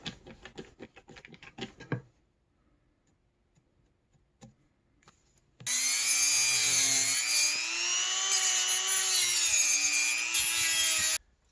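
A saw cuts through PVC pipe for a sword build, giving about two seconds of quick, close rasping strokes before it stops. A sustained tonal hum follows later.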